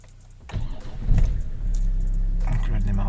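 A BMW 525d E60 diesel engine (M57) cranks and catches, then settles into a steady idle hum, with a brief jingle of keys beforehand.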